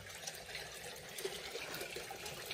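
Gold panning, water swirled and sloshed in a pan, a soft continuous trickling and splashing close by at low level, with no talking.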